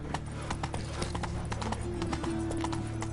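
Hooves pound in a quick, continuous clip-clop as Roach gallops in The Witcher 3: Wild Hunt. The rhythm is close and steady, and game ambience hums low underneath.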